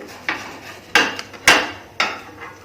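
A knife cuts a soft besan chilla into pieces on a board, making four sharp, close knocks spaced about half a second apart, with no talk.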